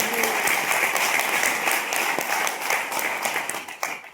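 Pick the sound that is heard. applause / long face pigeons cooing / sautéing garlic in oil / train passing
applause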